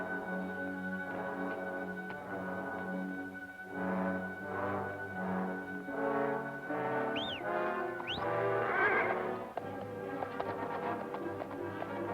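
Horses in a 1946 western film, with hoofbeats clip-clopping at a moderate distance under a music score, and a brief whinny-like cry near the middle.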